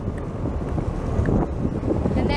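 Steady low rumble of an engine-driven car ferry crossing open water in Hungary, with wind buffeting the microphone throughout.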